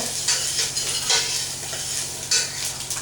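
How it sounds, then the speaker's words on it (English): Dry thyme stirred into vegetables cooking in a pot for chicken pot pie, a steady close scraping and stirring over a soft sizzle, with a few louder strokes spaced through the stretch. "I'm going to add about a teaspoon or so of dry thyme. Stir that in really well."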